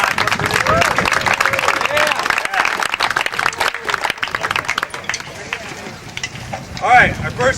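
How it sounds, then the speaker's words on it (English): A marching camp audience applauds in a loose, steady burst of claps lasting several seconds, mixed with scattered voices and crowd chatter that continue after the clapping thins. "let's have a round of applause for Yamaha Corporation"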